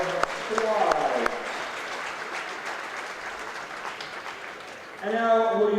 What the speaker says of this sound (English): How about one more big round of applause from both the North and the South All Star Squad.